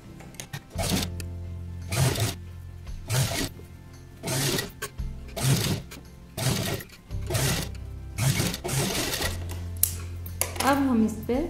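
A sewing machine stitches piping on a boat neck kurta in repeated short runs with pauses between them, while someone talks between and over the stitching.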